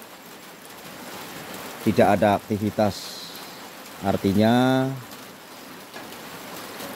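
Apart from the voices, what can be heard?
rain falling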